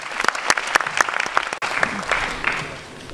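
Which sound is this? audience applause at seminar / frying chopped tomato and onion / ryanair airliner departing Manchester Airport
audience applause at seminar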